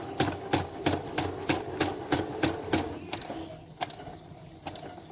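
A sewing machine stitches a tulle ruffle in quick, evenly spaced bursts, each run clattering close and loud, then slowing to a few isolated stitches near the end, with no talking.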